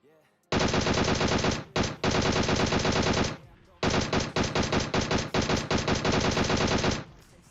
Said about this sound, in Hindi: गोली तो ये वैसे भी चला ही रहे थे अभी भी